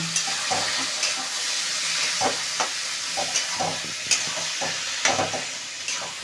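Egg tarka stirred and frying in a pan: a steady close sizzle broken by repeated scraping, clattering strokes of a spoon through the mixture.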